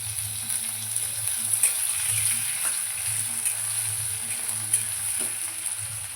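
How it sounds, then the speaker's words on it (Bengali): Grated ginger and tomato with salt, turmeric and sugar fry in hot oil in a pan, giving a continuous close sizzle with intermittent scrapes of stirring and no talk. "এগুলো ভালো করে ভাজতে হবে"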